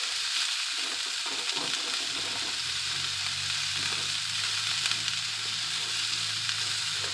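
Thinly sliced onions, celery and green onion fry in a pan with a steady, close hiss and crackle and occasional soft stirring sounds, with no talking.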